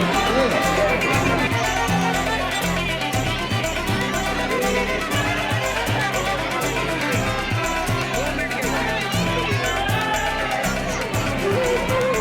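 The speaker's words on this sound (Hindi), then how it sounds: "राधा रमन मंदिर में भी बहुत ही ज्यादा भीड़ थी" Dense, continuous crowd hubbub at the Radha Raman temple in Vrindavan, many voices murmuring close by at a steady level, with a person talking over the crowd.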